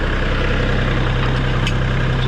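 A tractor engine idles steadily and close by while being loaded for a cross-country haul, a continuous low rumble with no break.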